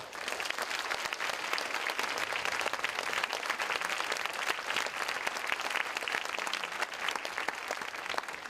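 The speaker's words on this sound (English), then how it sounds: "I probably would like to ask like 3 more applause" A debate audience applauds the competing teams with steady, crisp clapping from many hands, moderately distant and continuous from start to finish, with no voices over it.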